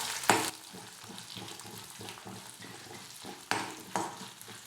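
Urad dal sizzles as it roasts in hot oil in a pan over a medium flame, with a spoon scraping and stirring in quick bursts against a soft steady frying hiss, and no one speaks.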